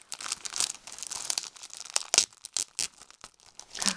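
Quick bursts of paper tearing and crinkling as greeting card envelopes are opened, close and fairly loud, in irregular rips with brief pauses between them.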